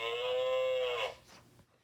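One long, drawn-out cow moo rises clearly and then fades into quiet, with no talking around it.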